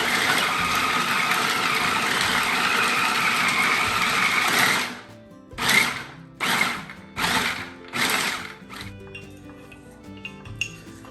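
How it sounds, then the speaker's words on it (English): A food processor grinds dates for a cheesecake crust in one continuous loud whir lasting about five seconds, then several short pulsing bursts, up close with no talking. "So we're gonna blend these and crush them."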